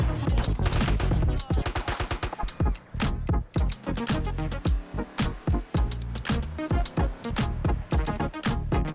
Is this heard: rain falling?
no